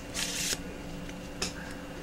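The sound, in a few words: shuffling playing cards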